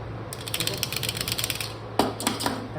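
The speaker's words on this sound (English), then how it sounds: "In this part, this is magnetizer. You will have to rub it for some time." A screwdriver is rubbed back and forth on a magnetizer during a RAM upgrade on a Lenovo T14 laptop, making quick ratcheting clicks and scrapes in close, fairly steady strokes with a brief pause near the end.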